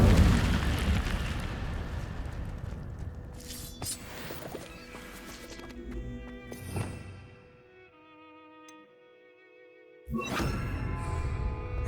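A fire spell in the Hogwarts Legacy video game erupts with a loud, roaring burst of flame that crackles and fades over several seconds, dipping to near quiet before a second harsh blast of fire flares up.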